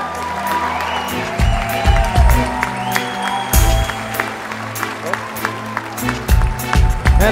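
A comedy show audience applauds and cheers for the Braddahs, steady clapping with swelling whoops and rhythmic bursts over a droning music bed, voices mixed throughout.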